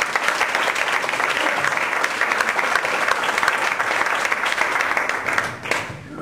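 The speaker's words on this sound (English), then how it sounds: "Give him a big round of applause." An audience at a comedy club gives a comedian a long, dense round of applause, steady and loud for several seconds before easing off at the end, with little talk underneath.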